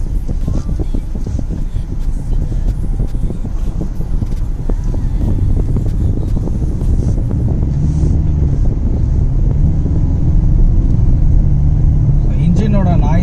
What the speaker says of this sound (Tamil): டீசல் இன்ஜின் தான், பட் நாய்ஸ் கேட்குது, பட் கொஞ்சம் கம்மின்னு சொல்லலாம்.